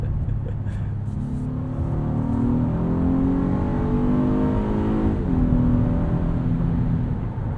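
A 2020 Acura MDX AWD in sport mode accelerates from inside the cabin, engine pitch climbing steadily, then dropping with a downshift before rising again, a moderate, continuous drone.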